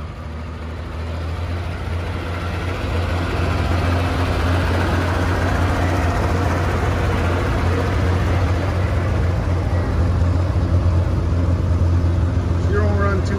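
An old gasoline International 656 tractor engine idles close by, a steady, loud rumbling drone that holds evenly throughout, with a voice briefly heard over it.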